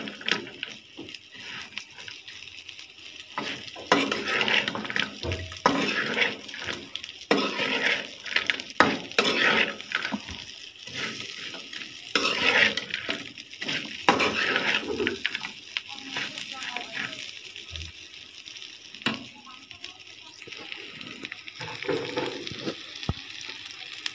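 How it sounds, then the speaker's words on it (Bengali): Puti fish (pool barb) from a village pond frying in a pan: continuous crackling sizzle with frequent scraping and stirring of a spatula against the pan, fairly close. "এই তো মাছ ভাজাটা হয়ে গেছে।"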